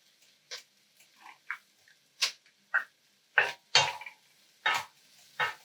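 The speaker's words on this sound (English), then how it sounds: "We'll add the sliced garlic." Sliced garlic hits a hot pan while black-eyed peas cook, giving a series of short, separate clatters and scrapes, like light pan and utensil knocks, spread irregularly over a few seconds at moderate loudness.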